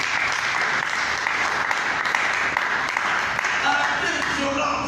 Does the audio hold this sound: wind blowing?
no